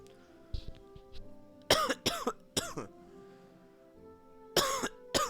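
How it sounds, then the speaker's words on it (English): A person with a lingering cough coughing several times in quick pairs, close and sharp, with quiet gaps between bursts and a final cough near the end. "I still have a bit of a cough."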